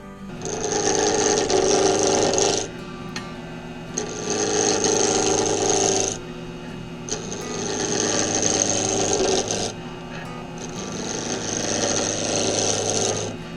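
A slimline pen blank turns on a wood lathe while a tool cuts it, making a steady high whirring scrape in four long bursts separated by short pauses, close and loud, with no talking.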